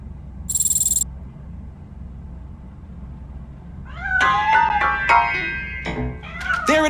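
A cat in the RoboCop: Rogue City video game meows several times in a rising, wavering run, fairly close and loud. It follows a quiet stretch broken by a brief burst of high hiss.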